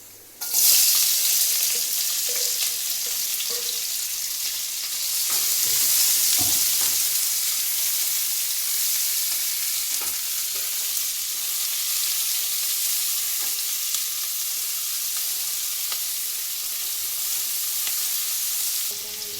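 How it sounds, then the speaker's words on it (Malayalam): Garlic, carrot and onion fry in oil in a pan for homemade wheat-flour noodles, giving a continuous close sizzle with a few soft stirring clinks and a brief surge partway through. "നമ്മൾ ചട്ടിയിലേക്ക് ഓയിലിട്ട് അതിലേക്ക് നമ്മൾ വെളുത്തുള്ളി ഇടുക."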